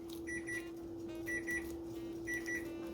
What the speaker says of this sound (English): That's a timer for something else.